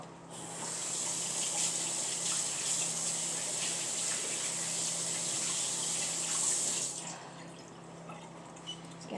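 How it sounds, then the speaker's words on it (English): Kitchen tap runs in a steady, close gush for about seven seconds while hands are washed under the stream during lasagna preparation, then shuts off, leaving faint drips and handling. "Now I'm going to wash my hands real quick."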